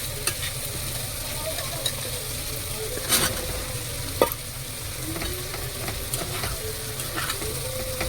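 Prawns with okra and ridge gourd frying in a pan while being stirred: a steady close sizzle with scraping stir strokes and small clicks running throughout, no talk.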